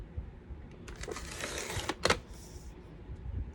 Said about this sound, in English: I use my cutter to cut out my images